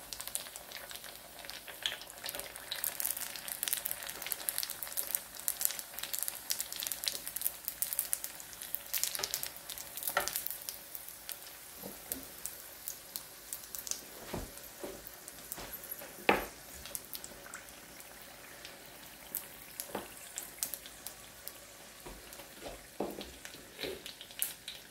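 Triangle-shaped crab rangoon deep fry in hot oil, a steady crackling sizzle with scattered sharp pops that runs on for a long stretch without talk.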